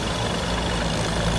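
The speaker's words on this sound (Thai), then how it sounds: "เสียงเทอร์โบจะแรงหน่อยนะครับคุณผู้ชม" A combine harvester's turbocharged engine roars loudly and steadily at close range during harvesting in a farm field, a dense, continuous heavy-engine rumble with no talk.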